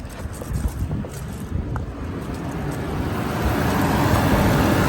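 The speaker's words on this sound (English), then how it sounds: "Engine sounds good. Fan is on, blasting." A Range Rover Sport HSE engine runs steadily while its cooling fan roars loudly, a broad whooshing noise that grows slightly stronger toward the end.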